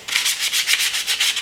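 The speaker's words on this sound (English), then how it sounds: "you sand it just like that." A plastic Nerf gun is sanded by hand, a close, rhythmic back-and-forth rasp of about ten even strokes with nothing else heard.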